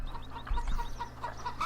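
Chickens cluck in quick repeated bursts inside a hen house in Farming Simulator 15, close and moderately loud over a faint low hum.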